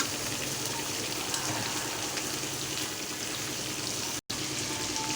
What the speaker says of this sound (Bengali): এখন যে মাছের মাথাটাকে একটু দিয়ে দিব হালকা ভাজার জন্য